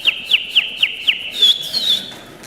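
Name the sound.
human whistling imitating bird sounds as a whistled language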